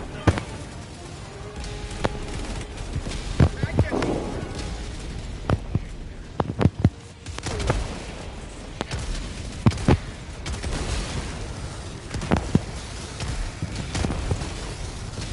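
Orbital cannon strikes in the video game Helldivers 2: a string of scattered booms and sharp blasts over a constant rumbling battle din, some close and punchy, others more distant.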